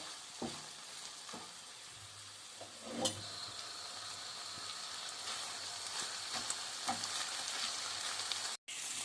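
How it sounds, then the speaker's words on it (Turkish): Chicken liver sautéing with bell peppers and green peppers in a pan gives a continuous close sizzle, broken by several scraping stirs and a few sharper clatters of the utensil. "Ve bir iki tane de sivri biberim vardı. Onları da ekleyip onları da kavuruyorum."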